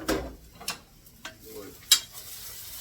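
Garlic and onion sizzling in a pan with meatballs, a quiet hiss broken by four or five scraping, clinking stirs of a utensil against the pan.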